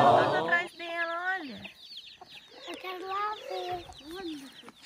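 A chicken clucks and squawks close by in a series of bursts, with a brief loud call at the start.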